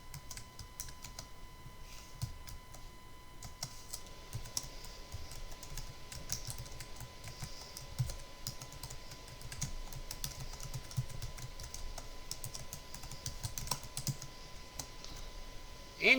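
Steady typing on a computer keyboard while entering footnote text in a Microsoft Word document, a continuous run of soft, close keystrokes throughout with no talking.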